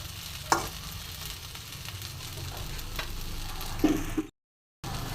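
Vegetables tossed with grated coconut fry in a pan with a steady close sizzle, stirring scrapes and a few clinks, broken by a brief silent gap near the end.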